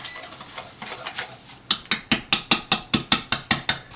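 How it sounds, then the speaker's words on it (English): Pumpkin whoopie pie batter is whisked in a bowl, first as a soft scraping swirl, then as about ten brisk, evenly spaced clattering strokes close by. "Now you want to whisk this until it's completely all combined"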